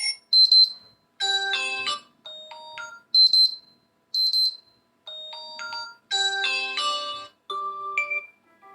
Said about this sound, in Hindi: तो यहाँ से अलार्म रिंगटोन चेंज कर सकते हैं।